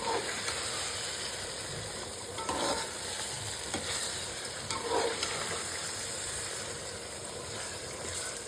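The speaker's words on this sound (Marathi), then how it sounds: "ही कोळंबी जी लिंबू आणि हळद फक्त लावून ठेवलेली ती पण ह्याच्यात आपण टाकूया. आणि चांगलं मिक्स करून घेऊया." Prawns coated in lemon juice and turmeric stirred in a hot pan for Konkani prawn rice, a steady sizzle and hiss with scraping stir strokes every few seconds, close and continuous with no talking.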